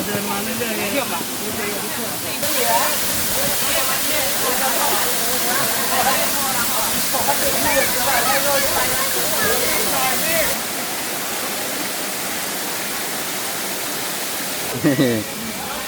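Khlong Takhro twin waterfall in Thailand pours with a constant broadband roar, close and loud throughout, with people talking faintly over the rushing water.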